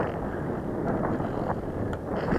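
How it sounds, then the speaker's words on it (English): Strong wind buffets a microphone at a model aircraft flying field, a steady loud low roar rising and falling in gusts throughout. "the wind has really got up quite hard at the moment"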